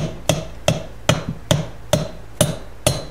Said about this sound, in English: I'm going to take a dead blow hammer now and just start gently tapping downward